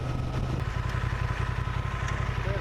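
A Honda Transalp motorcycle engine runs at a low, even idle with steady mechanical clatter, heard up close while the rider shifts gears.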